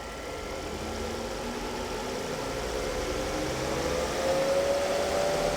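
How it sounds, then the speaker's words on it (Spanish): A Volvo S40 engine in a diagnostic check, running steadily and then revved up toward 2000 RPM, with a continuous close mechanical drone that rises slightly in pitch and loudness near the end. "Acelérelo a 2000 RPM, por favor."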